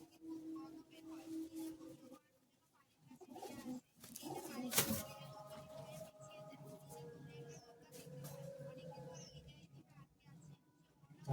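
Old Madras pigeons at a home loft coo in low, soft bursts, with voices talking nearby and over much of the sound.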